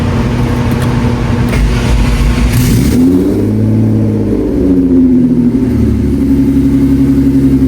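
A tuned Audi running on E85 ethanol for the first time cranks, catches and fires up loud and close, its engine rising in a revving sweep before settling into a steady, throaty idle.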